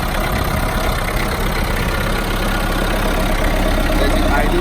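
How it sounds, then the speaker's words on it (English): Mahindra Roxor diesel engine idling after a cold start, a steady loud broadband rumble with no breaks from start to finish. "So let's head ahead and see how the engine is running."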